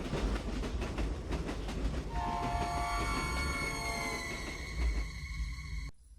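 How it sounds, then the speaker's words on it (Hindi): A running train rumbles past with rhythmic clickety-clack and a long sustained horn or whistle, loud and close, ending in a sudden cut. "भागती हुई ट्रेन फिर से दिखने लगी।"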